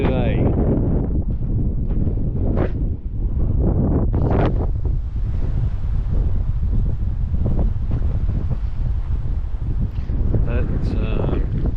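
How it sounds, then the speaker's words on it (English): Steady coastal wind at Tumby Bay, South Australia, buffeting the microphone with a constant low rumble throughout, occasional gusts swelling louder. "But she's a bit windy today."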